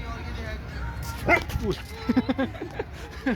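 Dogs bark in short yapping bursts and a cluster of quick yips near the end, mixed in with people talking close by.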